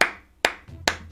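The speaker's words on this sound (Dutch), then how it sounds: "Nou, Applaus." Three sharp hand claps, evenly spaced and close by, each snapping out briefly and fading fast in a quiet room.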